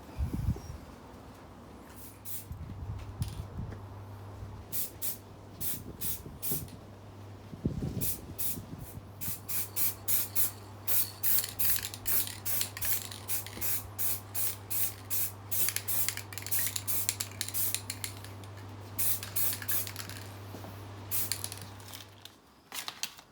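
Aerosol spray paint hisses onto Jaguar XFR headlights for a first coat, in many short rhythmic bursts that come faster toward the end, close and alone over a steady low hum.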